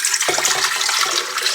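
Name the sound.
water poured into bowl for sandwich bread dough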